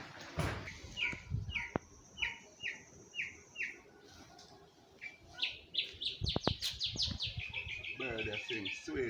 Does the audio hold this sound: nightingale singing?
yes